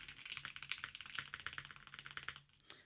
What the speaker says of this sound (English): It's not a bad spacebar sound.